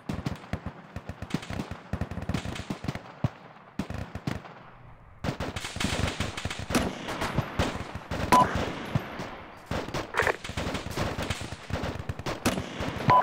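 Heavy gunfire from the military shooter Arma 2 rattles in long, ragged volleys of sharp shots and machine-gun bursts, loud and sustained apart from a brief lull near the start.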